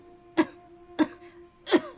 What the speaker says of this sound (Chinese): 太后，你在咳嗽啊？